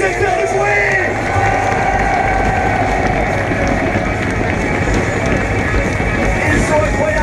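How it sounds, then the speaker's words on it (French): Loud, dense crowd noise fills a Nitro Circus freestyle motorsport show in Tours, a continuous roar of cheering and applause with no break, while an announcer speaks over it. "C'est de les applaudir, c'est de faire du bruit."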